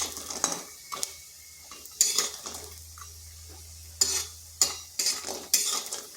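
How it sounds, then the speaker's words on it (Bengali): Bori lentil dumplings fry in a wok of oil while a spatula stirs and scrapes in sharp repeated strokes over a faint sizzle; no voices. "বড়িগুলো লাল লাল করে ভেজে নেব।"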